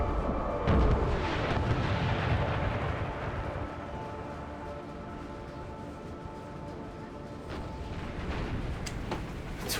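Artillery fire in the Napoleon Total War video game on an American Civil War battlefield: distant booming cannon reports roll under a continuous battle din, with a heavier blast early and scattered thumps after.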